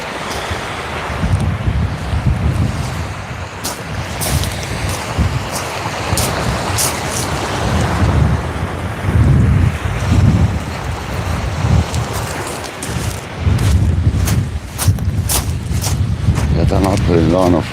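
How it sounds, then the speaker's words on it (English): Strong wind at sea buffets the microphone while kayak fishing, a loud continuous roar with gusts and splashy waves throughout, and a voice speaks at times over the noise. "Wow, that wind suddenly got up."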